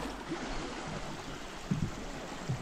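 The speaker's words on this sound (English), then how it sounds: "following along the River Severn that flows peacefully through this valley" The River Severn flowing through the Hafren Forest valley gives a soft, steady wash of running water, faint and constant, with a couple of brief low thumps near the end.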